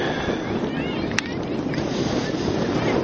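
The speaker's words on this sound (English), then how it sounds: "Wind has definitely picked up here." Strong wind blowing across an outdoor women's college soccer field during a match, a steady broad roar and buffeting on the microphone with faint distant sounds beneath.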